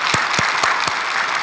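A church congregation at a special dawn prayer service claps in thanks to the choir and instrumental volunteers, a loud, dense burst of applause with a few sharp thumps inside.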